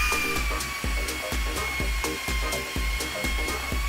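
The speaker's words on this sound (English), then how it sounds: "Use an air or electric power drill" A power drill spins close by while cleaning carbon from a diesel injector port, giving a steady whining hum with regular ticking knocks.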